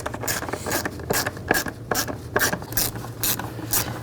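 Ratchet tightening worm-drive hose clamps on the ignition coil cover of a 2010–2016 Buick LaCrosse: a rapid, evenly spaced series of close, crisp clicking bursts, about ten strokes, no talking.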